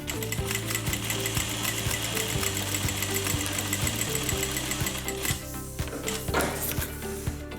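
A domestic sewing machine runs a steady holding stitch through layered fabric pieces of a zip-around long wallet, a fast even mechanical chatter close by that stops briefly near the end before a few more stitches.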